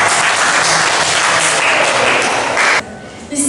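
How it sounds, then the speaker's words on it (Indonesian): Loud, dense audience applause at an Indonesian school gathering fills most of the clip, then drops away sharply near the end, leaving a brief quieter gap. "Oke, tepuk tangan."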